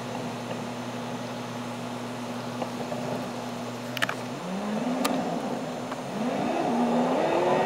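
A car driving along toward a gas station, steady engine hum heard from inside, then the pitch swells as it accelerates and shifts, with a few light clicks and no speech.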